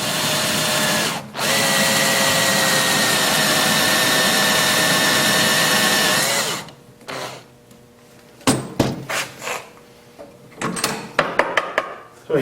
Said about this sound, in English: So you just drill a hole